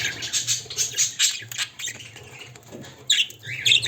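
Pet birds in an aviary, including some with heavy plumage and a mutation colour, give repeated close, harsh squawks and chatter in uneven bursts, with soft fluttering and rustling between calls.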